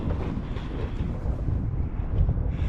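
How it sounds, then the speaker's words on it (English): Steady wind rushes over the microphone while sailing off Mount Desert Island, Maine, a continuous low buffeting roar with gusting swells and no talk. "looks like the wind just shifted"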